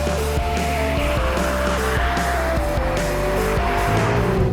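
A 2021 BMW M5 Competition with traction control off slides its rear end out, its tires squealing over a loud, steady engine roar throughout, with no talking.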